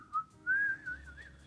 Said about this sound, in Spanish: comienzo a chiflar y libero yo ansiedad